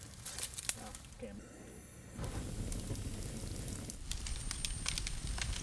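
A bonfire burning skeletons crackles and hisses steadily with scattered sharp pops, a dense close-up fire noise that swells louder midway.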